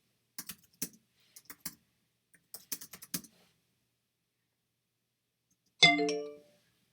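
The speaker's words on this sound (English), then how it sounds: "See there, you get the notification again." Keyboard keys clack in several quick bursts, then after a pause a single bright chime rings out as a Tidio live chat notification, ringing briefly before fading.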